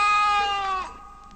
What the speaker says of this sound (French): et bêler s'il n'était pas content.